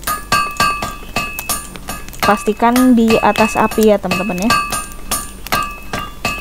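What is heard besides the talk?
hammering metal in a video game, Fortnite Save the World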